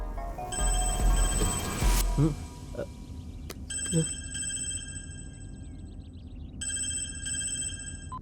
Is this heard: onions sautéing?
no